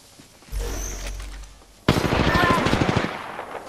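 Gunfire erupts in Apex Legends: after a low rumbling stretch, a loud automatic burst of rapid close shots kicks in suddenly and rattles on to the end, with faint voices underneath.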